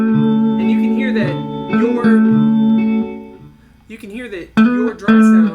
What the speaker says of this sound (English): your dry sound has no reverb